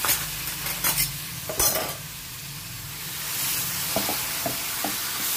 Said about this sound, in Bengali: ভালো করে মশলা দিয়ে আগে এঁচোড়টাকে কষে নেব।